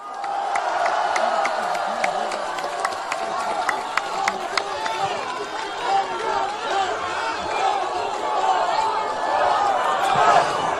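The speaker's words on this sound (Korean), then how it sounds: "여러분 큰 박수로 맞아주십시오" A large crowd at a political rally in Korea claps and cheers, with steady applause, shouts and chatter filling the air throughout.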